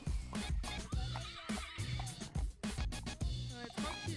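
A mare whinnies loudly and close, with busy harmonic neighing over a layered, dense background that carries on throughout.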